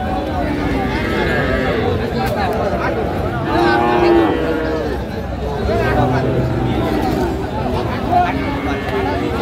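Young Friesian and crossbred heifer calves at a busy village cattle market give drawn-out moos amid constant crowd chatter and haggling voices.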